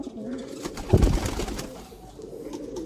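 Sialkoti pigeons with red spots, a domestic breed, coo softly in a short rolling burst near the middle, with bird calls and light background noise around them.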